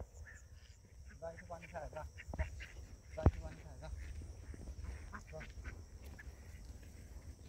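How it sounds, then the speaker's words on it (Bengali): A flock of free-ranging ducks quack in a busy cluster under a person calling out to them, with a sharp click midway. "দেখেন হাঁসের ঝাঁক।"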